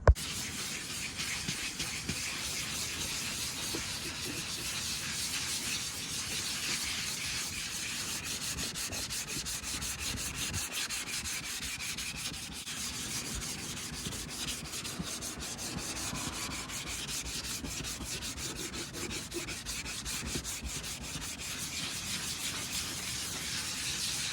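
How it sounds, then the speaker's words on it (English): Steady, continuous abrasive rubbing as guide coat is sanded off a Honda CRX body panel, a dense hissing scrape running unbroken throughout with no voices. "So let's get this layer sanded off and let's see how much progress we made."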